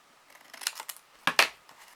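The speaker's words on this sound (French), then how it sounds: "On va couper." Scissors cut through material for a Halloween box craft, giving a few quiet close snips and rustles, then two sharper crisp cuts near the end, with no talk.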